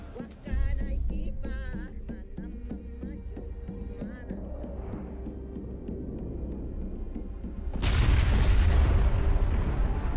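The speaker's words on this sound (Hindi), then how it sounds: "उधर बम धमाका हुआ है।" A bomb explosion in an adventure movie: a low rumbling, throbbing scene under music-like tones bursts late into a loud, broad roaring blast that sustains to the end.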